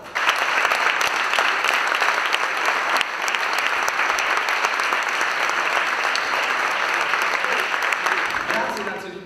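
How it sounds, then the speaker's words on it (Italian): A crowd at an anniversary celebration applauds with loud, sustained, dense clapping from many hands. A few sharper claps stand out, and a voice is heard near the end as the clapping fades. "un ottimo applauso!"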